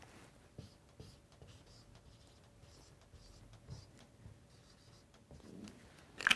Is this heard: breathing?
no